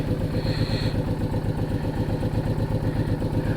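A Honda VTX1800R motorcycle engine idles with a steady, loud, close low rumble and even pulsing throb, with no talking.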